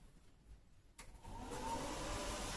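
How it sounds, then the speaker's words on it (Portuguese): A TIG HF welding machine set up for aluminium is switched on with a sharp click, after which a steady mid-pitched fan and transformer hum rises and holds at a loud, even level. "Vou ligar a máquina aqui."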